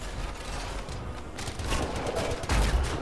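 Sniper rifle shots in the sci-fi shooter Anthem, with dense game combat and gunfire bursts. Two sharper, louder impacts come near the middle and the end, and no one speaks.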